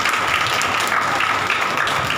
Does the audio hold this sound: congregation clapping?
yes